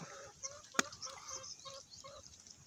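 Heritage chickens (Black Australorp) cluck softly nearby in short, scattered calls, with one sharp louder squawk early on, in an otherwise quiet setting.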